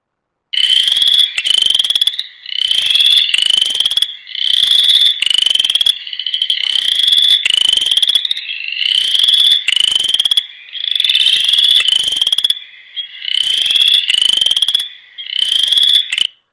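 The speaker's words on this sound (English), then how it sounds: "let me find where my chorus frog is" Chorus frog calls in long repeated bursts of rising, comb-like trills, loud and close, with short gaps between each run and no other sounds.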